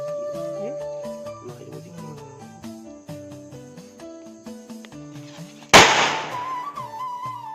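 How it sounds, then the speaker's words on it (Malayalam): Vishu firecrackers and fireworks being lit during the festival: one sharp, loud bang near the end crackles and fades under steady music. "നമ്മുടെ വെടിക്കെട്ട്, പടക്കം, പൂത്തിരി എല്ലാം കത്തിച്ചു."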